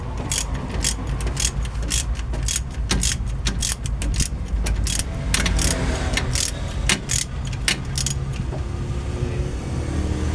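A ratchet wrench clicks rapidly while loosening a 12 mm bolt to slacken the alternator and air-conditioning belt on a first-generation Ford Ranger engine, the close metallic ticks coming in quick bursts for about ten seconds with no talk.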